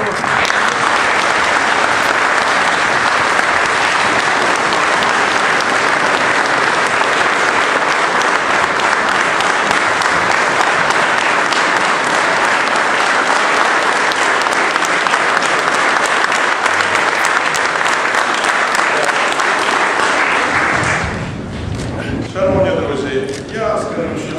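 Sustained, dense applause from an audience after thanks for work, loud and continuous for about twenty seconds, then fading into quieter murmuring and scattered voices.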